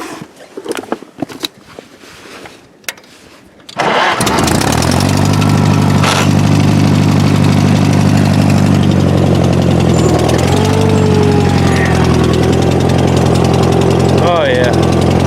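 A vintage Sno-Jet snowmobile engine that had sat for five years is started after a few quiet clicks and handling sounds, catching and settling into a loud, steady, close idle that runs to the end with a few slight revs.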